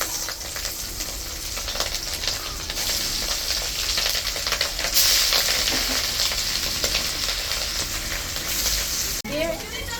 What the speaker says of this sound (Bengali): এখন মাছগুলি কড়াইতে দিয়ে দিলাম।